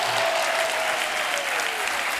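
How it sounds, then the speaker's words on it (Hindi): Studio audience on a Hindi comedy talk show applauding the guests, a loud, dense, steady wash of clapping with a faint tone running beneath it. "एक बार जोरदार तालियां हमारे मेहमानों के लिए।"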